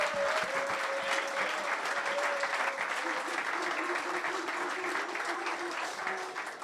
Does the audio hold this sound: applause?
yes